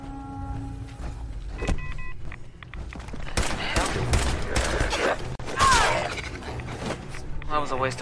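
A few gunshots ring out in Fallout 4 on PC, loud and sharp against a busy game soundscape with other effects and background noise.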